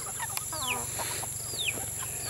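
Chickens cluck and chatter close by, with a few rising squawks over a steady background hum.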